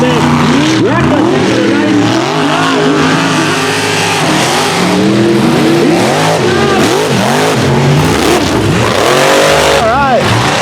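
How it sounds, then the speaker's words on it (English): Supercharged blower engines on mega trucks roar and scream continuously during a mud racing pass, loud and close with rising and falling revs, while an announcer talks over the noise. "Listen to those blower engines screaming right now."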